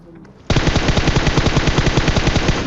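In the PUBG video game, bots open up with a loud, rapid burst of automatic gunfire that starts abruptly after a brief quiet moment and keeps going in an even, fast rhythm.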